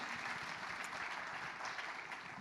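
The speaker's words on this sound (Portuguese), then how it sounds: "Ao ponto de aplaudir Jesus bem forte?" A church congregation applauds, a soft, even wash of many hands clapping at a distance with no voices on top.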